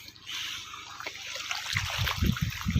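Water gushing from a borewell pump onto a farm field, a steady outdoor rush and trickle with splashing that grows louder and heavier toward the end.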